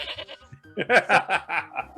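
A person's voice imitates a scared goat, producing a series of quavering bleats, a few short calls followed by louder wavering cries, close and alone.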